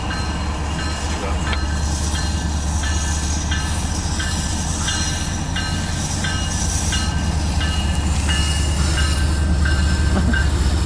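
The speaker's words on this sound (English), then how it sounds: "we got X216-25 come eastbound on 2" A loaded CSX autorack freight train passes eastbound, a loud continuous rumble of heavy railcars with rhythmic wheel clicks over rail joints and a faint squeal, steady throughout.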